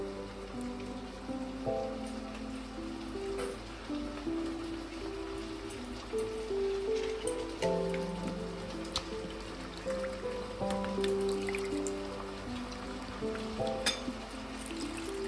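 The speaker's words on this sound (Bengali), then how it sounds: "1 কাপ গুড়ে 2 কাপ জল দিয়ে আমি এটা গুলে নেব।" Two cups of water poured over a cup of jaggery and stirred to dissolve it, a continuous splashing trickle with light scraping and clinks, steady and fairly close.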